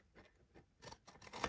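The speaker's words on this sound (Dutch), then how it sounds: "Oh, ik heb zo'n grote schaar." Large scissors snip through paper during a papercraft packaging project, a few quiet close cuts spaced apart, growing crisper and louder in the final half second.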